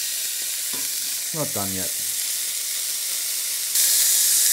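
Beef roulades pan frying, a loud, steady sizzle and hiss that grows brighter and louder near the end, with a short spoken remark over it.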